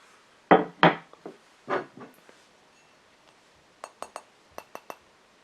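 A fingernail taps on the lid of a Le Creuset stoneware butter dish, giving crisp ceramic clinks: a few louder knocks early on, then a quick series of small, bright ticks, close up with no talk.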